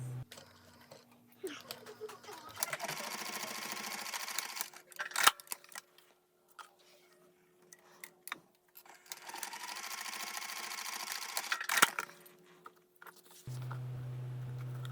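Sewing machine stitching pieces of a crossbody bag together with a 3/8 inch seam, two long steady runs of motor whir broken by brief pauses and clicks, close and moderately loud.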